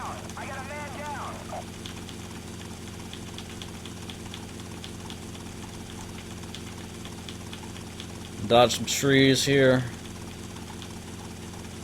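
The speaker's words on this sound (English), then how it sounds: "I'm trying to keep this helicopter lively and healthy, whatever." A helicopter in the GTA Vice City video game drones with a steady, continuous engine and rotor hum throughout. Someone talks over it, and a short burst of louder voice comes near the end.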